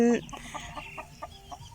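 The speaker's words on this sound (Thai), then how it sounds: "ไก่ที่เราได้มานะเขาออกลูกแล้วอะ่ะ" Chickens at a Thai home, among them a hen that has just hatched chicks, cluck close by in a short run of repeated clucks, with a voice heard at the start.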